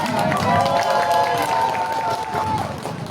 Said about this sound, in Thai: ขอเสียงปรบมือให้ทุกคนอีกครั้ง